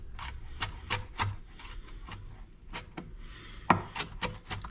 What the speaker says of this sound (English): So again, chopping some of this fresh dill.